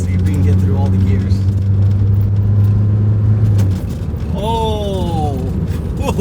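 A Toyota with a manual gearbox and spherical shifter bushings accelerates, its engine drone steady and loud, then dropping in pitch as it shifts before rising again through the next gear, heard from inside the car.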